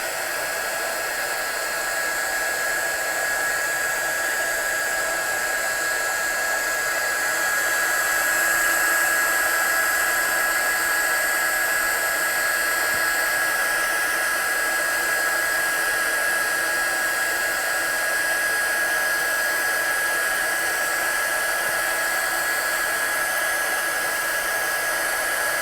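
A heat gun runs continuously to melt embossing powder, a steady, loud airy blower roar with a constant high whine and no breaks throughout.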